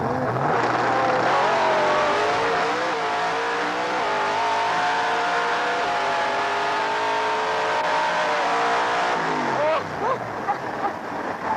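Drag racing car making a run at Santa Pod, its engine roaring loud and sustained as it accelerates, pitch climbing steadily, then cutting and dropping away near the end.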